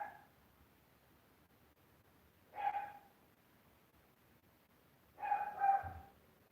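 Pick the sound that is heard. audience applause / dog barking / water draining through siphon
dog barking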